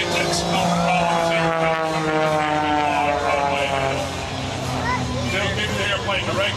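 An aerobatic propeller airplane at the 2010 Eglin AFB airshow tumbles in an inverted flat spin, its loud engine droning and wavering in pitch, while an announcer keeps talking over it.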